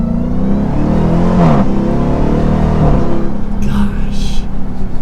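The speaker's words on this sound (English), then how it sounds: "It sounds so good with the supercharger whine and that stock exhaust." A 2023 Dodge Durango SRT Hellcat AWD with stock exhaust rumbling steadily close by, its engine swelling in revs with a rising supercharger whine.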